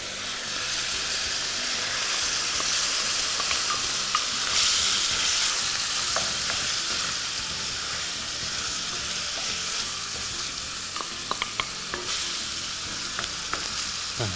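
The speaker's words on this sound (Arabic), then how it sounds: "هكذا ونغطوه ونخلوه يتقلى مع البصل" Chicken and onion frying in a pan, a loud continuous sizzle close up with scattered pops and crackles, no talking.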